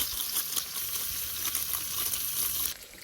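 Steak sizzles and spits steadily in a hot pan, close and continuous, cooking away on its own with no talk, while camping in a van.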